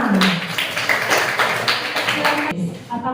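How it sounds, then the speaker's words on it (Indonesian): A classroom group claps for a presentation, with brisk, close hand claps running for about two and a half seconds before cutting off, then a faint voice. "tepuk tangan untuk kelompok 5"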